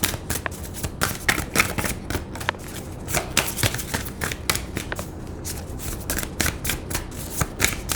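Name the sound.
shuffling and pulling oracle cards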